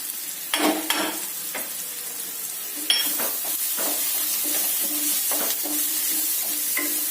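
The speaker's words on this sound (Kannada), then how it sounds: "ಇದು ಚೆನ್ನಾಗಿ ಫ್ರೈ ಆಗಲಿ ಫ್ರೆಂಡ್ಸ್ ಈರುಳ್ಳಿ ಚೆನ್ನಾಗಿ ಫ್ರೈ ಆಗ್ತಾ" Onions frying with turmeric powder for a tomato curry, a close sizzle with a few spoon clinks and knocks against the pan early on, then a steadier frying hiss.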